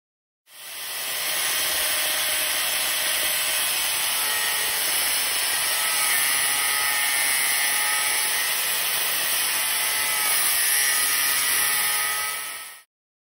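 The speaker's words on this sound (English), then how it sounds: "Might just hit the inside here with the Dremel real quick" A Dremel grinds the inside of a rear disc brake part for a 1982 Honda XR200R conversion, a loud, steady high-pitched whine and rasp running unbroken for about twelve seconds.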